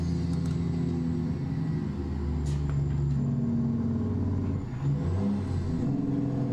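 A heavy truck engine in American Truck Simulator, a low steady rumble rising and falling as it revs through downshifts, loud and continuous with no talk.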